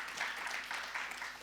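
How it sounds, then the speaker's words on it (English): Brief, faint audience applause after a talk at a UK climate resilience event, a soft, steady patter of clapping from a modest crowd with no voices over it. "So round of applause."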